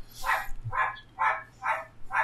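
Five sharp, evenly spaced barks from neighborhood dogs, loud and close, with no talking.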